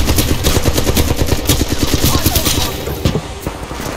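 Rapid automatic fire from the Alternator SMG in Titanfall 2 multiplayer, loud, close bursts of fast-cycling shots lasting about three seconds, then a few scattered impacts.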